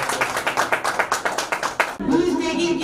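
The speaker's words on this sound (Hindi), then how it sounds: "तालियां दोस्तों।" Clapping for about two seconds in quick, steady beats, then it stops abruptly and a sustained voiced tone takes over.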